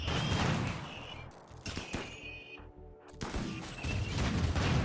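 Slug turrets in RimWorld fire bursts of rapid gunshots at a raid, dense crackling volleys that briefly pause and then resume amid a busy game soundscape.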